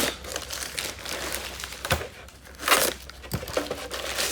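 A shipping box for a vintage base camp item is opened, with loud, close crinkling and tearing of packaging material in irregular bursts and no voices.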